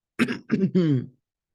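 Three quick, close coughs in a row, the last one drawn out and rougher, then silence.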